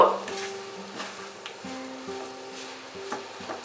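Sweet vermicelli (jorda semai) with sugar stirred in a pan, giving soft repeated scraping strokes over a faint low sizzle, close and fairly quiet, no talk.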